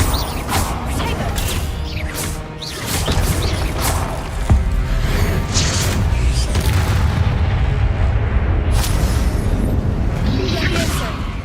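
Confringo spell blasts in the video game Hogwarts Legacy go off as repeated booming explosions and crashes over dense game noise, with a player shouting throughout.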